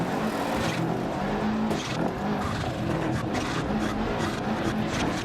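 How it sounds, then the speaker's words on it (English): Rally car sliding through a handbrake turn on loose gravel in Dirt Rally 2.0 on an Argentina stage, a steady roar of engine and crunching, hissing tyre skid filling the whole stretch without pause. "So do a slight e-brake turn here, handbrake turn here."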